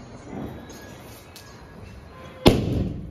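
A single firecracker goes off with a sharp, loud bang the day after Diwali, its rumble trailing away for about a second, after quiet background noise and a faint earlier thump.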